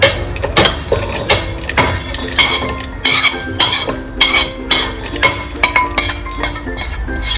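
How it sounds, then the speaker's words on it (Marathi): Peanut chutney mixture is spooned into a steel mixer jar, giving a series of close clinks and metallic scrapes in an irregular rhythm. "आपण मिक्सरच्या भांड्यात याला ट्रान्सफर करूया."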